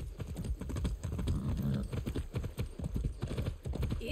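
Horse hooves clip-clop steadily in the video game Far Cry 6, a close, continuous trotting rhythm of repeated hoof strikes with no talking.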